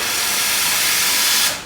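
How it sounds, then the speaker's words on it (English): Espresso machine steam wand purging, a loud, steady, close rush of hissing steam that holds constant and then cuts off sharply at the end. "purge out your steam wand. That's to get rid of any water that might be still sitting there"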